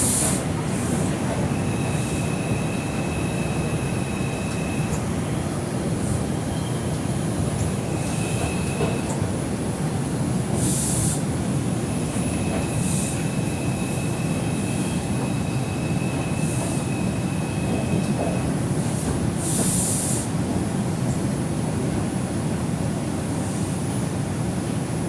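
Onboard an R142 subway car on the Manhattan-bound 4 express in the Bronx, a constant loud rumble of running wheels with intermittent high metallic squeals and brief chirps as the train travels.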